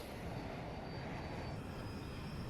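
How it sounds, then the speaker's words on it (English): Su-57 jet in Battlefield 2042 giving a steady, loud broadband engine roar that fills the whole stretch with no letup, a faint high whine running above it. "Is that a jet?"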